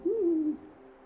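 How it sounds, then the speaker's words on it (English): A great grey owl gives a single deep, smooth hoot, gently rising and then falling, heard close and clear against a quiet snowy background. "The great grey owl shows how to be a good deep snow hunter."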